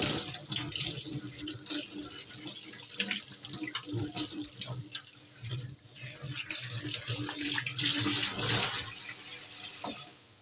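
Water pours steadily from a tap while hands are washed with soap in a kitchen, a continuous splashing rush that swells and dips over about ten seconds.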